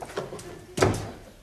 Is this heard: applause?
no